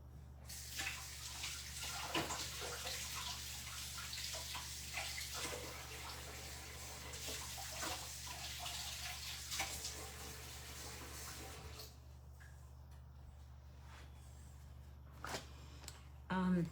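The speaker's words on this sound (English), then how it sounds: "I'm just going to rinse these under the tap and I'll be back." Tupperware is rinsed under a running kitchen tap, producing a steady hiss of flowing water with light splashing and knocks, which stops near the end, leaving a low background hum.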